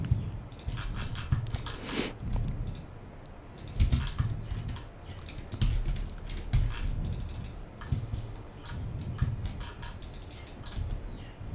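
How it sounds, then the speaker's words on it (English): A computer mouse clicks during SketchUp modeling work, giving quiet, irregular sharp taps scattered across a soft background, with short clusters of quick clicks. "Then now we can click"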